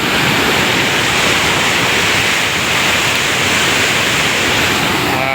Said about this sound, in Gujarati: આ ભાઈ શેત્રુંજી પાણી છૂટેલું છે, જુઓ તમે